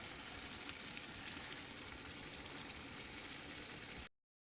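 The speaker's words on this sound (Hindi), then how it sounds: "अब हम इसमें लहसुन पाउडर ऐड करेंगे, उसको मज़ीद 5 मिनट फ्राई करेंगे" Mutton with garlic powder frying in a pot for mutton karahi, a loud, dense, continuous sizzle close up that cuts off abruptly near the end, with no talking.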